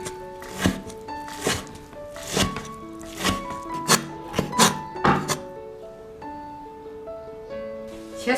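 A knife chopping shredded squash on a cutting board, about a dozen firm, evenly spaced thunks close up, with a brief pause near the end and no talking.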